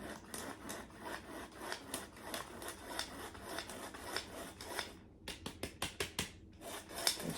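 Dry ingredients with a dash of salt are sifted by hand, producing a rapid series of soft rasping shakes and scratches close by, with a short pause before a few final spaced taps.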